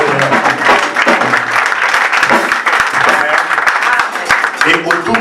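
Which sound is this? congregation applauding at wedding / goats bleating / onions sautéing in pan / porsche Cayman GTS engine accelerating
congregation applauding at wedding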